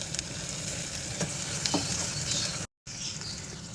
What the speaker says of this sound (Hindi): फिर हम इसमें 1 चम्मच भर के अदरक लहसुन का पेस्ट डालेंगे और 1 मिनट तक उसकी भुनाई करेंगे।